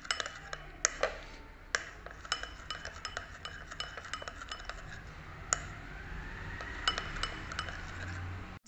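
Spoon clinking against a bowl while potato face mask is mixed with sugar, a steady run of sharp taps and scrapes at close range with no talking.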